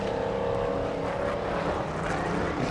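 A Lola T70 historic sports race car in qualifying, its loud V8-style engine roaring steadily as it passes fairly close, with a sustained tonal drone and no clear speech.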